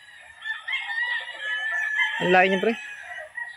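A Pure Red Kelso gamefowl rooster at a Tanay, Rizal gamefarm crows once at middle distance, over background birds and faint clucking, with a man's brief remark nearby.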